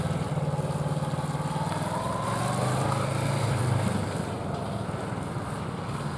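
Motorcycle ridden slowly in first gear during a rear-brake and throttle U-turn exercise, its engine holding a steady low, close drone with a slight rise in revs midway before easing back.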